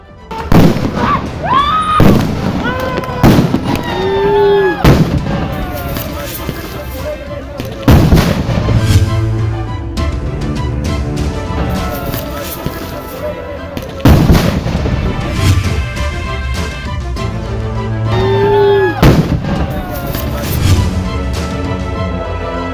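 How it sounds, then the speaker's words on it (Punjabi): Police fire gunshots and tear gas shells at a farmers' protest at the Shambhu border. Repeated heavy booms and sharp cracks echo in the open air, with crowd voices in between. "ਗੋਲੀਆਂ ਦੀਆਂ ਆਵਾਜ਼ਾਂ ਦੀਆਂ ਇਹ ਤਸਵੀਰਾਂ ਸ਼ੰਭੂ ਬਾਰਡਰ ਦੀਆਂ ਨੇ"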